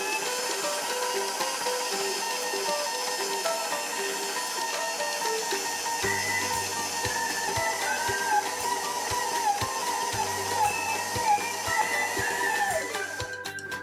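A stand mixer kneads currant bun dough in a bowl, a steady motorized whir with mechanical drone running throughout, punctuated by rhythmic knocking thumps in the second half as the dough slaps around.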